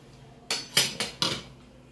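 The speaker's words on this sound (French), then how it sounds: "Et je remue encore." A spoon stirring ndolé in a cooking pot, four quick metallic scrapes and clinks in an uneven rhythm, close and clear with nothing else around them.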